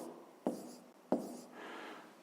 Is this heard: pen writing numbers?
yes